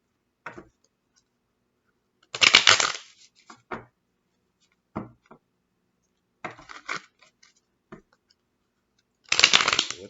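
Several bursts of playing card shuffling, each a quick crisp riffle, separated by brief pauses and lighter handling noises.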